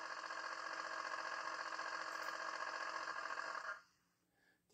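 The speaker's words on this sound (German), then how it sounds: "Auf der 5 haben wir den Kompressor." A loud, rapidly chugging air compressor from a Märklin V90/294 diesel locomotive model with an ESU LokSound 5 decoder runs steadily with a rattling pulse, then stops abruptly, leaving quiet hiss.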